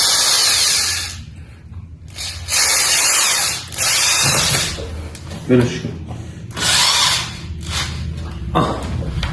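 A power drill drilling wood while building a desk whirs in several loud bursts with short pauses between them, and a voice speaks briefly in between.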